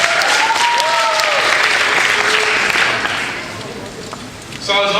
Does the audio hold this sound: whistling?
no